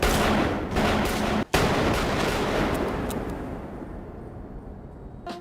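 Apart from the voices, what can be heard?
gunshots in film scene on subway train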